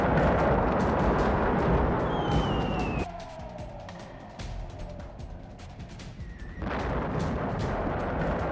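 Heavy artillery fire and explosions in the war in Ukraine, a dense, roaring barrage of booms with siren-like rising and falling tones over it, steady and loud throughout.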